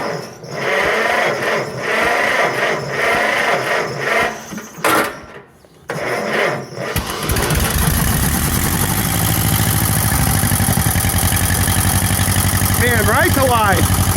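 A John Deere MT tractor engine, given choke and a little throttle, catches about halfway through after a voice and some fiddling, then settles into a loud, steady, close idle that runs to the end.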